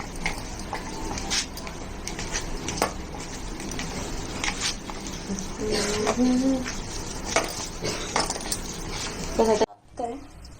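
Sabudana vada mixture is squished and stirred by hand in a bowl, a continuous close, soft squelching and scraping with intermittent clinks, while people talk over it.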